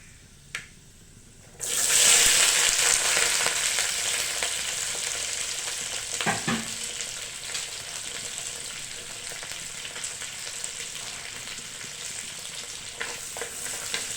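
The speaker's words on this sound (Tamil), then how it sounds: "இஞ்சி சின்ன வெங்காயம் கருவேப்பிலை பச்சை மிளகாய் கட் பண்ணி வச்சுருக்கிறேன் அதை சேர்த்துக்கலாம்" Ginger, shallots, curry leaves and green chili drop into hot oil for a spicy Thoothukudi fish curry, setting off a sudden loud sizzle that settles into steady frying crackle with occasional stirring scrapes, and no one speaks.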